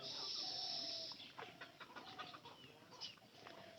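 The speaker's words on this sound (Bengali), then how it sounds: "এই যে 2টা মুরগি আসতেছে" Two neighbour's chickens approaching on a rural homestead, giving soft intermittent clucks and short calls at close range over a steady high background hiss, with no talking.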